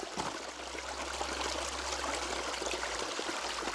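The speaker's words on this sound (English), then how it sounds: "Not only look at this spring," Continuous rushing and trickling of a small spring-fed stream flowing nearby in the Ozarks, a steady watery wash with no talking.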